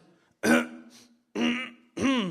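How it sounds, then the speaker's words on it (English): Three harsh throat-clearing coughs, close and loud, spaced about a second apart. "Boy, I seem to be coughing"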